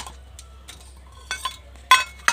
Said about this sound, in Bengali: এদিকে আমি টিফিন বক্সটা খুলে দেখবো চিংড়িটা কেমন সেদ্ধ হয়েছে।